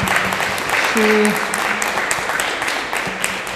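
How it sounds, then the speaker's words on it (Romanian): An audience claps loudly for a teacher at the close of a talk at the Palatul Comunal, a sustained, dense applause filling the room, with a brief spoken word over it. "noi o să facem o încheiere cu aplauze puternice pentru doamna profesor pentru ziua de astăzi"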